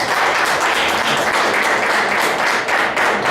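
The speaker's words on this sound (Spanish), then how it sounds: "Levante un aplauso como si hubieran hijos de Dios en esta iglesia." A church congregation applauds in a dense, continuous burst of clapping from many hands, loud and close, with no speech over it.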